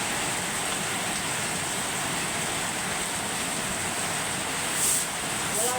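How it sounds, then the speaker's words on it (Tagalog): Heavy rain pours in a dense, constant hiss, steady and enveloping throughout, with a couple of faint brief higher sounds near the end. "Tuloy-tuloy ang buhos ng ulan, magdamag."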